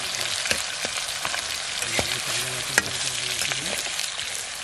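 Onions with a pinch of salt fry in tempering oil for a chicken dish, a close, steady sizzle with stirring scrapes and a few sharp pops.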